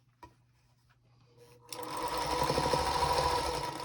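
Sewing machine chain piecing charm square fabric: a few quiet clicks and handling sounds, then the motor starts up and runs in a fast, steady, close whirring stitch.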